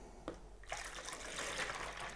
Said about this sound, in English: Pour the plaster